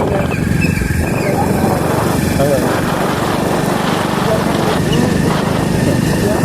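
A motorcycle engine running just after being started on a road after rain, a loud, close, steady chugging idle that continues throughout, with voices faintly under it.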